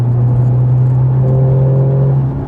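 Naturally aspirated flat-six boxer engine of a Porsche 911 cruising in fifth gear, heard from inside as a loud, steady, low droning hum with a faint higher whine and no voices.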